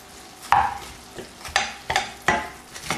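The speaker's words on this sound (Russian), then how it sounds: "Фарш уже, вот вы будете видеть, что практически он пожарился, он будет уже не красный. Тогда в этот момент я добавляю помидоры." Minced meat frying in a pan with chunks of tomato added, repeated stirring scrapes over a steady close sizzle, several strokes spaced about half a second to a second apart, with no talking.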